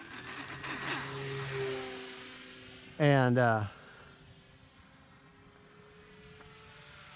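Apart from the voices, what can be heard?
E-flite Cirrus SR22T RC plane doing a no-flap takeoff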